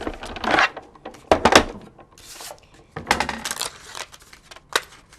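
A manual die-cutting machine rolls a cardstock sandwich of plates and a scalloped circle die through, giving a few close, grinding and rubbing bursts with brief pauses between them and no talking.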